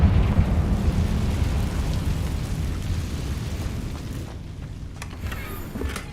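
A Confringo blasting spell detonates in a video game, a deep rumbling boom that rolls and fades over several seconds with a low roar, followed by fainter crackling debris near the end.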